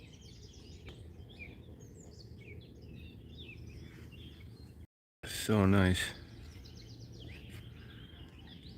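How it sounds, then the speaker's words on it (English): Birdsong chirps across an outdoor waterside scene with clear water, the calls light and scattered, moderately close, alongside steady ambient background noise, with a person briefly speaking partway through. "Birds singing."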